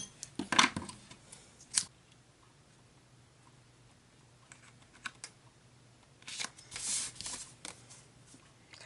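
Scissors snip card paper in a few crisp bursts of cutting, separated by quiet pauses with faint handling noises, close and fairly clear.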